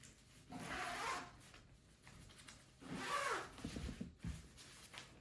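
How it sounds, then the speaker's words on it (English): Two large zippers on an Osprey garment folder are pulled open in two separate long rasping strokes, close and fairly quiet, with brief fabric rustle at the end. "there's these two large zippers with large, powerful zipper pulls that go down in a diagonal pattern down these zippers to open it up"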